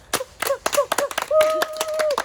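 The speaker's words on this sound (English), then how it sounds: "Slow clap for games." A few slow, spaced hand claps for children's games ring out over cheering and excited voices, with a sustained whoop-like tone in the middle.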